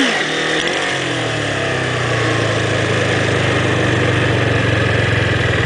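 A motorcycle engine revs up from idle and holds a loud, strained high-rev drone close by during wheelie practice, with a steady buzzing pulse.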